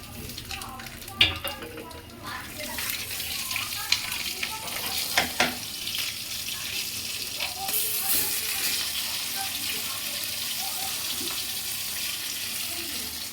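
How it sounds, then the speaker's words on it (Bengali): Hilsa fish heads frying with a dried red chilli tempering, salt and turmeric, a continuous crackling sizzle with stirring knocks and scrapes, moderately close, with some running-water sounds in the background. "ইলিশের মাথাগুলো ভাজছি তো"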